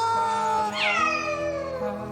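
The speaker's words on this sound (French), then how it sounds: "c'est pas un miaulement genre mignon, genre yo, c'est un miaulement genre pourquoi?" A cat on the way to the vet lets out a single drawn-out, unhappy meow, loud and close, rising then sliding down over about a second and a half with no other sounds.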